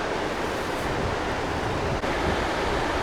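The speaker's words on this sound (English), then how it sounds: "the river is starting to swell and you can see some of the debris flow" A swollen, flooding river carrying debris produces a dense, constant roar of rushing water, loud and steady throughout with no speech.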